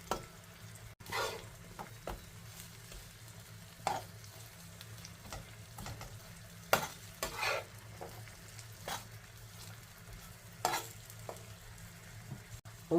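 Kebabs cook on a tawa with a faint, continuous sizzle, punctuated by scattered clicks and scrapes of a spatula, beneath quiet music.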